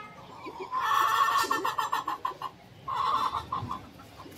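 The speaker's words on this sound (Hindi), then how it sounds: "कितनी प्यारी सी मेरी मुर्गी है," A pet hen clucks in two close bursts of rapid, throaty notes, loud and clear with a short pause between them and no talking over it.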